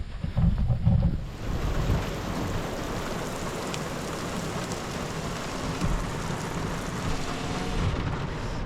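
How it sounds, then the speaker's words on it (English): Heavy rain pours steadily in a dense, even hiss, a little louder and rougher at first, with no voices. "this rain is starting to drop a bit heavier"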